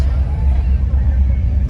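Low engine rumble from lowriders and muscle cars cruising Route 66 at night, a steady dense drone of idling and rolling vehicles close by, with crowd babble from many spectators mixed in throughout.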